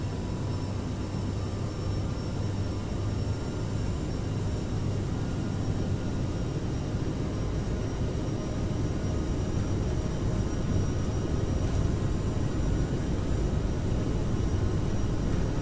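Airliner jet engines in Microsoft Flight Simulator roar steadily at high thrust during a takeoff run on a crosswind departure from Stockholm, a dense, continuous broadband rumble with a faint whine that holds level throughout.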